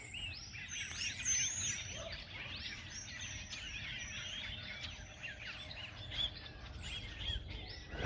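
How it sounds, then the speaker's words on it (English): Many birds chirp and sing at once outdoors in Eendekuil, Western Cape, forming a busy, continuous chorus of overlapping calls at moderate distance over a low background rumble. "Loads of birds."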